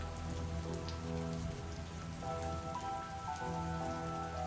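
Steady rain falling at night, a dense, even patter on surfaces with no breaks, close and moderately loud, no voices.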